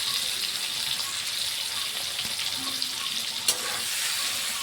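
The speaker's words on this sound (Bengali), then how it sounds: "তেলটা এখানে আমাদের গরম হয়ে গেছে, এবার আমরা এক এক করে আলুগুলো ঠিক ছেড়ে দেবো তেলের মধ্যে" Constant close-up sizzle of potatoes coated in turmeric and salt frying in hot oil, with one small clink partway through.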